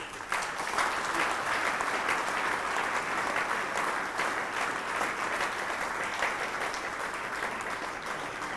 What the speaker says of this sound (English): Please join me with a clap ovation to welcome to the podium Professor Ikide Imomori.